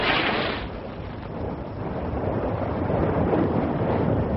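A line-throwing gun fires a cord across to a tanker from a ship at sea, a sharp burst at the start that quickly gives way to a steady roar of wind and sea.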